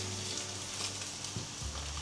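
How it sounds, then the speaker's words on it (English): Potato and eggs frying in a pan on the stove, a steady close sizzle with faint crackles and a few soft scrapes, with no talking. "Now we open the bottom of the stove and fry both sides nicely."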